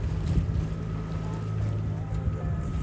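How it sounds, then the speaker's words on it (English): A sailboat's engine running on Lake Erie, a steady low drone with a faint tonal hum, mixed with wind buffeting the microphone and water noise. "we opted to start up the engine"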